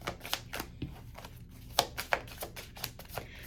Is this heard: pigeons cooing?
no